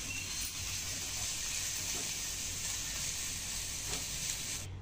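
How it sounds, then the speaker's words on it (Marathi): Grated bottle gourd (lauki) sautés in ghee over a low flame, giving off a soft, continuous sizzle and hiss with no speech. "तुम्ही या किसाला परतून घ्या तुपावर"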